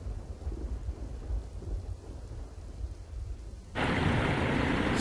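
Heavy rain pours steadily in Dwarka during a storm, a continuous wash of rainfall that suddenly swells much louder and denser near the end, with thunder rumbling low beneath it and no voices.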